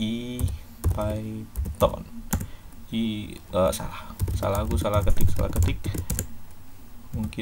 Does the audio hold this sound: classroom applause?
no